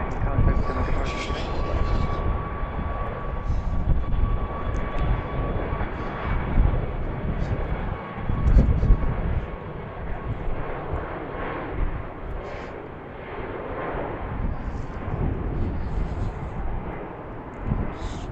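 A Southwest Boeing 737 MAX 8 airliner at Baltimore BWI airport gives a steady, broad roar that holds fairly loud throughout, with a faint whine running through it and some voices mixed in.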